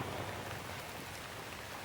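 Steady rain pours down in the rural countryside of northeast Thailand on a morning of herding buffalo, a dense, even hiss of drops close by that fills the scene with no voices.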